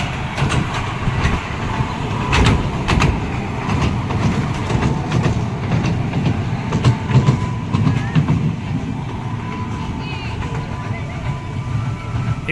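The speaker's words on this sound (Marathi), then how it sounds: "ही पूर्ण ट्रेन मित्रांनो तुम्हाला गार्डन फिरवून आणते" An amusement park toy train runs through the garden at Wonders Park in Nerul, Navi Mumbai, with continuous clickety-clack and engine rumble close by while people talk over it.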